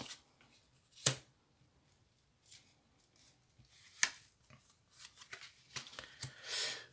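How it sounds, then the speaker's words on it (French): Oracle cards are spread and picked out in sparse, scattered papery slides and a few sharp snaps, quiet and close, with long gaps between them. "Je vais maintenant étaler les cartes face à moi, et je vais sélectionner 3 cartes que je vais positionner face à nous."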